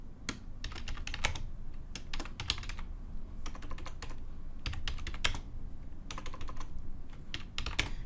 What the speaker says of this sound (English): I can't talk and type.